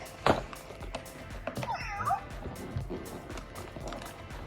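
A cat gives a brief meow near the start, then a longer, wavering meow a moment later, amid faint indoor rustling and taps.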